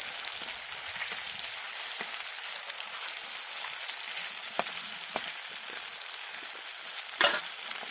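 Lata fish fry in oil in a home kitchen, giving a steady, soft, close sizzle with a few sharp pops and crackles and no speech.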